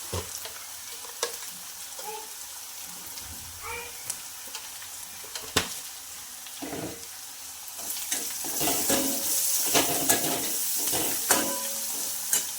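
Aloo paratha filling fries in a pan as turmeric powder and salt go in, a continuous sizzle with intermittent stirring scrapes and clinks that grows louder and denser toward the end.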